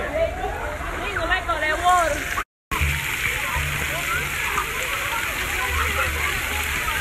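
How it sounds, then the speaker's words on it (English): Water spraying from a fountain at a public water park, a steady hiss and splatter running throughout, with a voice and brief talk over it. "This is how you turn the water back on."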